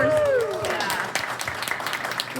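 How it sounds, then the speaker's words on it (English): Applause at a comedy and variety show in a coffee house, audience clapping building under a fading voice at the start, then scattered claps and cheers continuing moderately close. "give us a round of applause"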